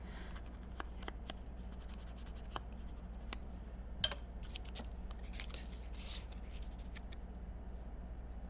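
Scissors cutting out paper pieces for a craft project, a series of small crisp snips and scratchy rustles at an uneven pace, close and quiet against a faint steady hum, with no talking.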